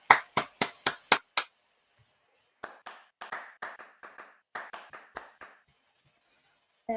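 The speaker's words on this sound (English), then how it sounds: "a round of applause for Melanie Frank and Lazoria." After an online presentation, a single person claps six crisp, evenly spaced times, then after a pause gives a looser, quicker run of fainter claps, with silence between and at the end.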